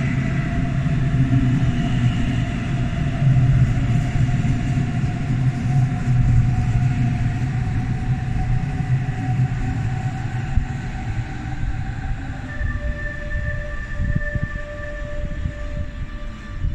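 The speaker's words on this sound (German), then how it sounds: "der Zug fährt jetzt, glaube ich, ein" A Hamburg S-Bahn S3 shuttle train, running as a long train, pulls into the station with a steady heavy rumble of wheels on rails and a sustained tonal whine. Brake squeals rise near the end as it slows.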